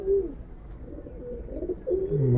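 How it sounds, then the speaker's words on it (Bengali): A muffed-foot pigeon coos nearby in soft, low rolling phrases, several short bursts with brief pauses between them. "মুজালা কবুতর ভাই। মোজাওয়ালা কবুতর।"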